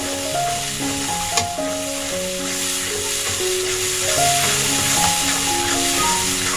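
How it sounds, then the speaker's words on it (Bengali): Cabbage curry sautéing in a pan, with a steady sizzle and frying hiss running throughout, a brief stir clatter near the start, while background music plays alongside. "এবার এটা কষিয়ে নেব"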